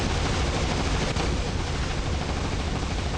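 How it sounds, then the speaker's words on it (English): Robot weapons firing in War Robots, a continuous dense barrage of gunfire that roars steadily and loudly without a break. "I'm shooting enemy 3 despite his ability being up"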